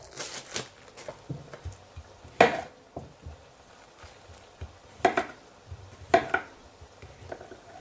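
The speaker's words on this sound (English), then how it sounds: "just get your lettuce and chop it up" Lettuce is chopped on a board for a burger-side salad, soft irregular knife thuds and a few louder knocks, close and steady, with no talking.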